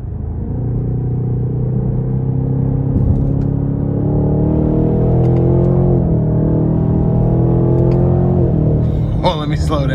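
A 2020 Cadillac CT6 V with a V engine in manual mode on a test drive, its loud engine note climbing steadily through the revs in a smooth sustained rise before dropping off, with a person talking over it.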